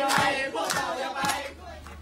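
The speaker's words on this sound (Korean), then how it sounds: "구조 작업에 참여했던 자원봉사자들이 일제히 환호하며 기쁨의 노래를 부릅니다" Volunteers at a cave rescue site cheer and sing together in a loud group chorus outdoors, rhythmic shouted bursts from many voices.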